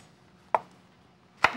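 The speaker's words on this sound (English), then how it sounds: "And just slice them about 1/4 inch." Bananas sliced with a knife on a cutting board in a home kitchen, two sharp distinct knife taps about a second apart, close and clear against a quiet background.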